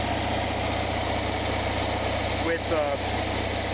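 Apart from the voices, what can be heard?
Onan genset engine running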